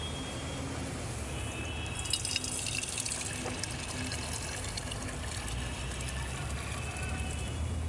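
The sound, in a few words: treated public toilet water trickling from biogas digester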